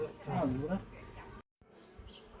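Honeybees hum around an opened beehive, a faint steady drone beneath a voice that speaks near the start, followed by a brief silence and quieter buzzing.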